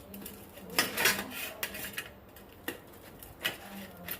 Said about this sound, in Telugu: ఇప్పుడు వీటిని మనం కట్ చేసుకోవాలి